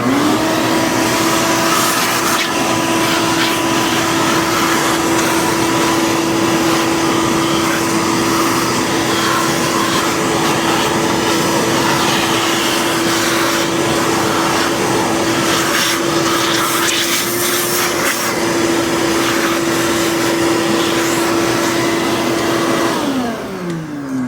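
A shop vacuum whines steadily and loudly at close range, cleaning chips from a Carbide Nomad 883 desktop CNC mill, holding one constant pitch for over twenty seconds before it abruptly shuts off and winds down at the end.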